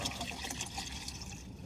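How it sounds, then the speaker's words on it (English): Water being poured in a continuous, fairly close stream, a steady bubbling gurgle with no pauses over its short length. "Water being poured."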